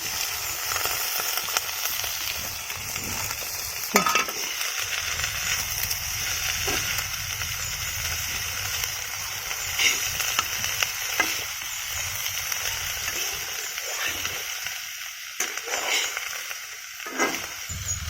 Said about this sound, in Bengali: আমার তেলটা গরম হয়ে গেছে, আমি কুচি করা পেঁয়াজগুলো আমার দিয়ে দিচ্ছি